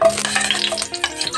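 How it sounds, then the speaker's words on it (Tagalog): Chopped onion and garlic hit hot cooking oil for pork adobong sitaw, giving a brief, close sizzle with scraping stirring noises. "Initin natin konti yung mantika para isunod na natin yung sangkap, yung sibuyas at saka yung bawang."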